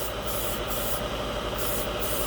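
An airbrush sprays Dspiae sky blue paint thinned about 1 to 2 or 1 to 3, giving a steady close hiss that runs without a break, with slight pulsing in the upper range.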